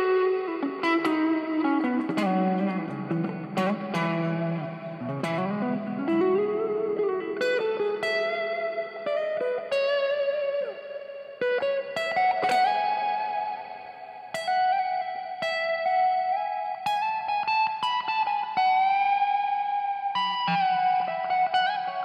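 Electric guitar played through a tank-style effects setup with added reverb, mix and a touch of gain, sounding as sustained chords and bending notes with a lush, echoing tail, loud and steady with no talking.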